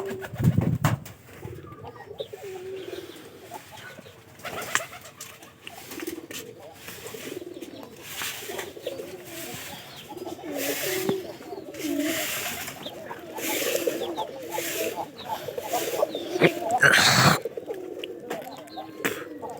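Domestic pigeons, including pairs kept for breeding, coo repeatedly in a loft, with soft calls recurring throughout amid rustling and some background noise.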